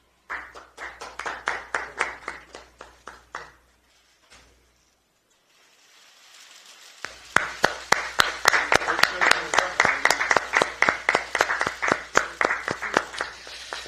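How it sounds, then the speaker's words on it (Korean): Audience applause at a Democratic Party ceremony welcoming a newly recruited lawyer: a burst of clapping, a brief quiet gap, then louder, sustained applause from a crowd in the hall. "박수 부탁드립니다"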